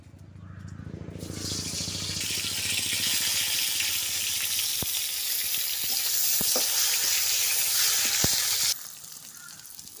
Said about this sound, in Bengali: এখন আমি চাল কুমড়োটা ভাজি করে নেব